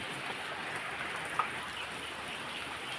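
Afternoon rain falls steadily as a faint, even hiss outdoors, with one tiny drip standing out midway and no voices.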